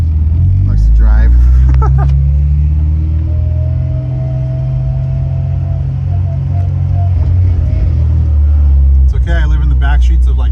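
Inside a 2008 Honda Civic Si cruising around the block: a steady low engine drone and road rumble fill the cabin, with a gentle rise in pitch and people talking over it.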